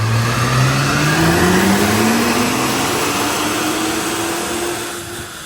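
A 2009 BMW 135i twin-turbo engine pulls hard from inside the car, its loud rising drone climbing steadily as it accelerates through a gear, then easing slightly at the end.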